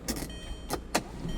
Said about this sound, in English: Power sunroof slides back.